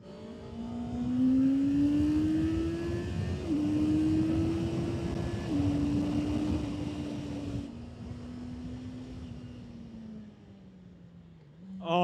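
A Honda motorcycle fitted with an E-Clutch runs on a race track, its engine holding a steady, fairly loud drone that rises and shifts in pitch through gear changes and eases off toward the end.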